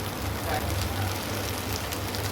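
Curry frying lightly in leftover oil in a pan gives a faint, steady sizzle with soft crackling throughout a short stretch.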